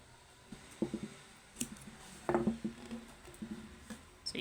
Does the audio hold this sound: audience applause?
no